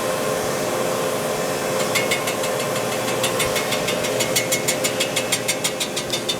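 A boring bar cutting the heavily worn cylinder bore of a Chevy 348 W-series engine: a steady machine drone with a rapid, regular series of bright metallic cutting pulses joining partway through and growing more distinct toward the end.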